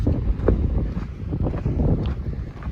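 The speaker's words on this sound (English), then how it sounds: "The wind. Ah, yes, the wind." Wind gusting across a Pacific Crest Trail section in Northern California, heard as loud, rumbling buffeting against the microphone that continues throughout.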